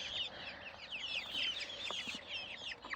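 Chickens cluck and chirp in a busy overlapping chorus, with scattered short calls and higher peeping throughout, fairly close.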